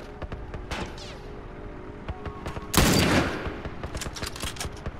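Gunfire in a first-person shooter video game: a scatter of sharp shots throughout, with one louder, longer burst in the middle, all fairly close and without any talking.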